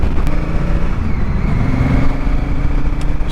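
Honda Africa Twin motorcycle engine droning steadily at a medium riding pace, with continuous wind and road rumble throughout and no voices.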